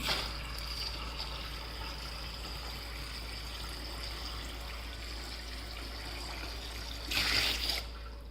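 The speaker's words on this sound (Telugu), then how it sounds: "సో నేను మళ్ళీ వాటర్ని పోస్తున్నాను" Water poured into a household water filter, a faint steady trickle under a low hum, swelling into a brief brighter splash of pouring near the end.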